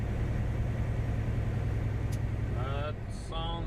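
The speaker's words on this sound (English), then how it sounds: "now this truck sounds a lot better since I got that exhaust flex pipe fixed" A truck engine with a newly repaired exhaust flex pipe runs with a steady, low droning rumble heard from inside the cab, and brief tonal voice-like sounds appear near the end.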